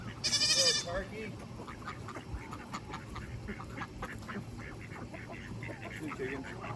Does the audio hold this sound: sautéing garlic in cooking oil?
no